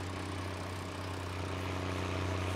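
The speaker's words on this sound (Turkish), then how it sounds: "bunu susturucusunu söktürdüm. Ciğerden geliyor yani, direkt motorun sesini veriyor." A Farming Simulator 19 vehicle engine with its muffler removed, a loud, steady, deep droning hum running throughout, alone without talk.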